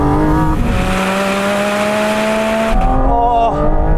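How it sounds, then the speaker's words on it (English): Porsche GT4 RS engine revving hard while driven, a loud, rising mechanical howl with steadily climbing pitch, a brief dip as the gear changes, then climbing again, close and dominant. "Oh, and then there's a throttle response to that engine, and you've got all the revs, of course."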